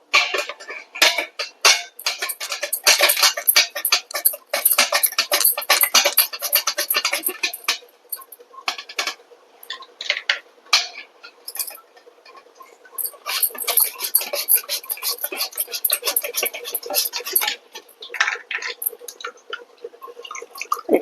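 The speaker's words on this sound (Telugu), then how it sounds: "ఇవి తురుముకోవాలి" Peeled potatoes for crispy chips being grated by hand, a dense rasping scrape in quick, repeated bursts with short pauses between strokes, loud and close.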